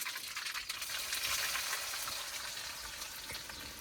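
Cumin and mustard seeds sizzling in well-heated oil, a soft continuous crackling fry with faint scattered pops, low in level and without talk.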